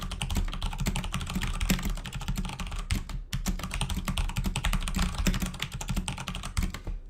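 Typing on an Aula mechanical keyboard fitted with brown switches, a rapid, continuous stream of close, clicky-thocky keystrokes with one brief pause midway, no voices.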